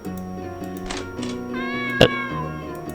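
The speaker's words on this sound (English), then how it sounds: "It's a cat!" A cat meows several times indoors, short tonal calls with one longer drawn-out meow, set against steady background music and a single dull thump.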